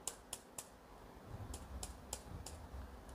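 Keys tapped on an ultra-thin keyboard about 2 mm thick, giving a few quiet, crisp clicks: a quick trio at the start, then scattered single presses over faint room noise.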